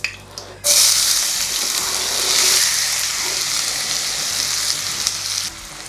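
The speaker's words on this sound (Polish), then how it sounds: "Obsmażamy chwilę w ten sposób." Carrot, onion and sliced garlic hit hot bacon fat with a sudden loud sizzle that holds steady and strong throughout, a brief quieter moment before it starts; no one speaks.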